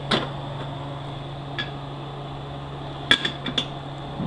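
A hammer strikes a bushing driver while installing a bushing: a few sharp metallic taps, one early, one faint in the middle, then a quick cluster near the end, over a steady low electrical hum in a workshop.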